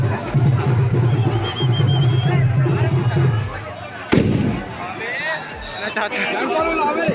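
Firecrackers burst during a night-time Govardhan Puja celebration, with one sharp loud crack standing out midway and smaller pops scattered after it, all under steady crowd chatter and nearby voices.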